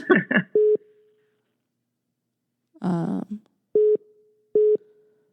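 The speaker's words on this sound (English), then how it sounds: "Someone's trying to call me." Phone call tones chime on a mobile phone: a voice speaks briefly at the start, then a steady electronic tone beeps three times with gaps between, with talk in the middle, close and moderately loud.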